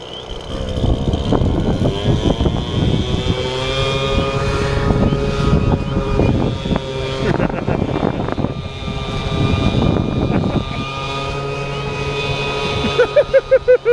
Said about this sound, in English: We fire up the motor.